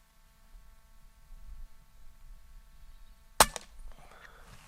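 A single sharp shot from a DAR .25 Gen 3 air rifle cracks out once near the end, loud and close, followed by a brief ringing tail over a low steady hum.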